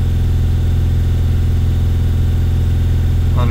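A Mercedes T1N Sprinter diesel engine held at about 2800 RPM, heard up close as a loud, steady drone with a fast, even rhythmic pulse and no change in pitch, no voices.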